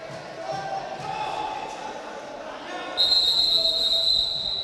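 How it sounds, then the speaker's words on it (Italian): A referee's whistle at a Serie A futsal match between Lido di Ostia and CDM Genova, a bright sustained tone cutting in near the end over steady indoor arena noise. "Il fischio del direttore di gara"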